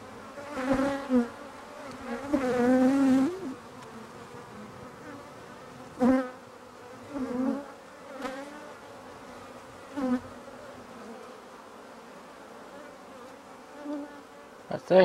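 A swarm of honey bees buzzes in close, uneven bursts. Loud droning passes rise and fade between quieter gaps, with no talking.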